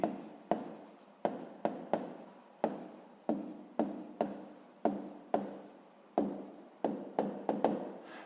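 A pen scratches across paper in quick, repeated strokes, each with a sharp onset, while a sixth-grade math solution is written out up close in a quiet room.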